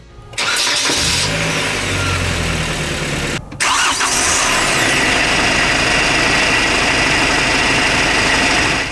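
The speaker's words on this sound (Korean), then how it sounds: "우선 시동 시 외부 소음을 비교해 봤습니다." A Kia Bongo 3 one-ton truck engine cranks and catches, dips briefly, then settles into a loud, steady diesel-like idle heard from outside at close range.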